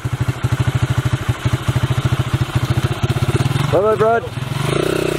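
A motorcycle engine runs close by with a steady rapid putter, sliding into a rising rev near the end, while someone speaks briefly over it.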